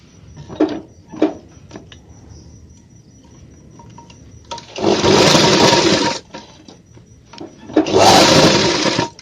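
An electric sewing machine stitching a men's shirt runs in two loud, steady whirring bursts of about a second and a half each, with quieter clicks and fabric handling before and between them.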